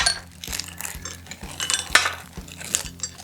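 Small hard mints drop and clatter onto a set table among dishes, a few light, scattered clicks and tinkles at close range, with no talking.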